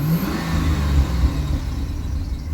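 A Chevrolet C6 Corvette engine idles steadily after being restarted inside the car, a low continuous rumble with a slight rev near the start, close and fairly loud with no talking.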